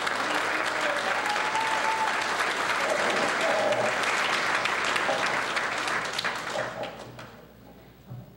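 Sustained audience applause at a graduation ceremony: a dense, loud wash of clapping that holds steady for several seconds before thinning out and fading near the end.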